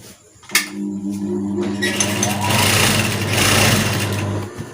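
Sewing machine stitching a fold along the edge of a puff sleeve, a steady motor whir with rapid needle rhythm running loud and close for several seconds after a brief start.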